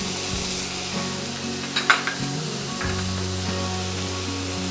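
Cashew nuts and almonds fry in a pan for a vegetable korma, giving a steady low sizzle with a few brief scraping clicks near the middle, close and moderately loud, with no speech.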